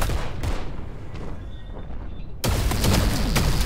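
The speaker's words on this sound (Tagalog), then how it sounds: "Ba't binabaril ako, ha?" Dense, continuous gunfire and explosive bursts from the Metalcore video game, loud and steady, with an abrupt jump to even heavier firing partway through.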